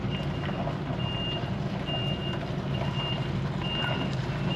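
A truck's reversing alarm beeps in a regular, evenly spaced pattern as it backs a trailer into a small, busy yard, over a steady diesel engine rumble.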